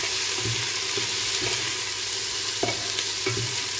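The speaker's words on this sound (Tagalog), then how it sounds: "So pwede na natin ilagay yung bawang at itong red pepper. Natin halo-haloin." Garlic and red pepper sizzle steadily in a hot pan while a utensil stirs them, scraping and tapping in irregular strokes about every half second, close up and with no talk.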